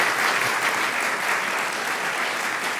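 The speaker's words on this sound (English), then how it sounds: "Would you give them a big round of applause," Audience applause fills a Senate cancer coalition forum, a dense, steady wash of many clapping hands sustained throughout without voices.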